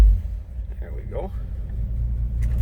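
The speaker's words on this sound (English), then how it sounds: "Nice, smooth idling engine." A 1955 Chevrolet 3200 pickup engine idles with a steady, low, even rumble close by, running smoothly beneath a voice for a few seconds.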